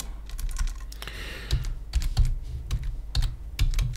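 Rapid typing on a computer keyboard to rename an object in Blender, with close, crisp key clicks in quick uneven bursts and no talking.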